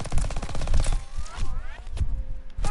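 Rapid pistol gunfire in a third-person online video game, a dense burst of sharp repeated shots in the first second followed by scattered single cracks and game effects, loud and close with no talk over it.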